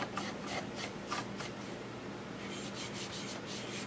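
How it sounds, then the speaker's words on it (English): A cloth rubs and wipes steadily across the inside of an xTool F1 laser engraver, a soft, close scrubbing with a few brief strokes standing out and no talking. "Wipe the inside of it."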